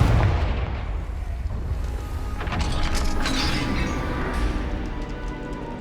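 Confringo fire spells blasting in the Hogwarts Legacy video game: a dense run of booming, crackling explosions and rumbles that rises in the middle and stays loud throughout.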